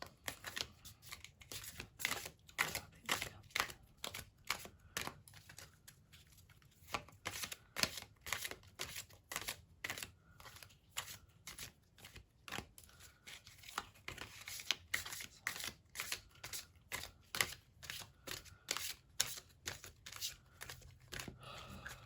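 Tarot cards shuffled close up in quick, papery riffling bursts over and over, with occasional single cards snapped and pulled from the deck, steady for the whole stretch.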